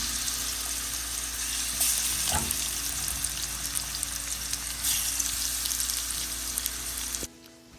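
Mahi fish sears in a hot iron skillet, a steady loud sizzle and crackle that runs unbroken for several seconds, with a brief clank near the middle, then cuts off abruptly at the end.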